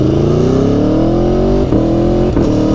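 A 2017 Aprilia Tuono V4 1100 RR motorcycle's V4 engine revs steadily upward, loud and close, with two brief dips where the throttle blips before it climbs again.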